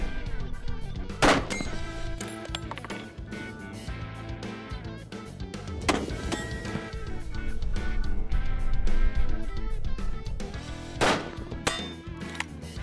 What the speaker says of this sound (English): I've got a 30-06 rifle here